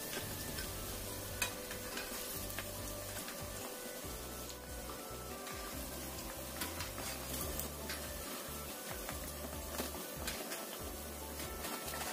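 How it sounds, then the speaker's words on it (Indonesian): Snacks frying in hot oil, golden pieces cooking in a batch, give a steady dense sizzle with scattered crackles and occasional stirring clinks, close and continuous without speech. "kemudian kita goreng yang berikutnya."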